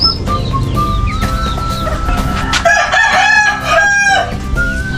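Native chickens kept as backyard poultry crow and cluck loudly and close by, several rooster calls overlapping with steady clucking throughout.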